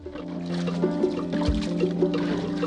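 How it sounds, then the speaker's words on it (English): Muddy, leaf-strewn pond water pouring into containers, a close, steady splashing and gurgling that fills quickly over a few seconds, with no talk. "In a matter of seconds, receptacles are filled up."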